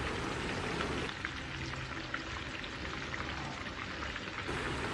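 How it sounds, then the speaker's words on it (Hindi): Chicken pieces fry in hot mustard oil in a pan for a desi-style roast, giving a steady, even crackling sizzle like light rain, continuous and moderately quiet, with no talking. "अब मैं इसमें चिकन डालूँगा। मैं इसको इतना फ्राई करूँगा कि इसमें गोल्डन कलर आ जाए।"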